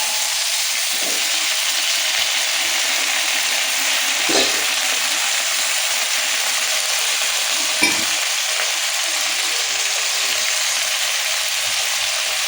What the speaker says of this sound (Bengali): মশলাটা ভালো করে ভাজা ভাজা হয়ে গেলে এবার দিয়ে দেবো পুঁই শাক